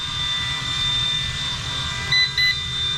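Two short electronic beeps from a GoolRC C129 V2 RC helicopter transmitter in quick succession, heard over a steady whining motor hum.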